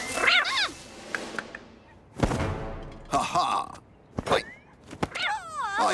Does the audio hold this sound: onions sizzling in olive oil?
no